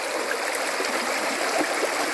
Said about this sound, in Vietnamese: Đây cũng là một dòng suối